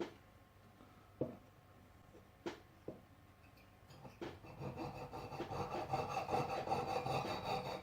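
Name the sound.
sawing a metal ring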